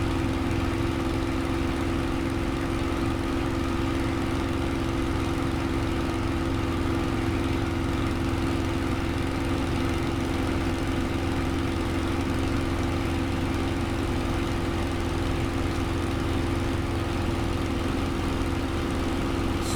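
An aircraft engine drones steadily in Microsoft Flight Simulator 2020, a continuous loud hum with a constant pitch and no breaks, heard on its own.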